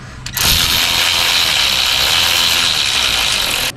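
Ratchet with a deep socket turning an exhaust bolt on a VL Commodore, a loud, continuous fast clicking that runs for about three seconds close up.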